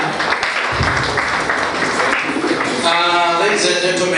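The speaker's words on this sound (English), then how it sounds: "Round of applause one more time for our director." Audience applause at a school of journalism and media studies briefing, a dense, steady wash of clapping throughout, with voices and a rising tone mixing in near the end.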